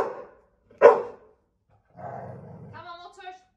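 A puppy gives a single sharp bark close by, followed by a low growl and whining, with someone speaking briefly before it.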